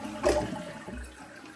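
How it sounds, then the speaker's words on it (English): A Kohler toilet with a weak flush is flushed after the water supply has been shut off, giving a short, fairly quiet rush and gurgle of draining water. "We'll give it a flush."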